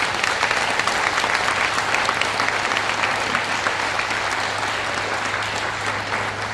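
Sustained audience applause fills a leadership training seminar hall, a dense, even wash of clapping hands that holds steady for several seconds with no talking over it.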